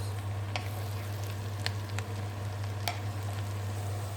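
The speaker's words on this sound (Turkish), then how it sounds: "Evet şimdi de mantarımızı döküyoruz. Ve karıştırıyoruz." Mushrooms sizzle steadily in a hot frying pan. Occasional soft clicks and scrapes of stirring sound over the quiet, constant frying hiss.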